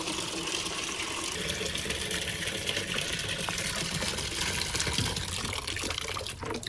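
A tap runs in a steady, continuous splashing stream for a German Shepherd waiting to play in the water, moderately quiet, with no talking.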